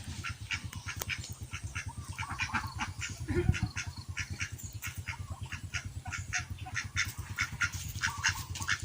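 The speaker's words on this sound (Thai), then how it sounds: "มาปล่อยเป็ดพี่น้องจ้า" Ducks released on a Thai farm near coconut trees quack and squawk in a steady, busy chorus, repeated calls overlapping close by with a continuous low rumble beneath.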